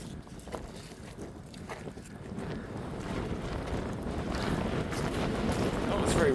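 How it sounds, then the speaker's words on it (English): Strong wind gusts across the microphone at Wainuiomata Beach, a rough, rumbling roar that builds steadily louder and dominates any faint background sound. "Very windy up here."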